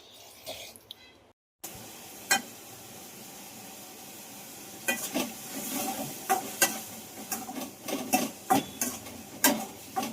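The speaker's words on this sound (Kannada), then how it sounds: "ಒಗ್ಗರಣೆ ಹಾಕೋಣ." Tempering for cheese Maggi noodles crackles in a hot pan at home, with a low sizzle broken by a short silence and then a string of sharp pops and spatters that grow louder and more frequent.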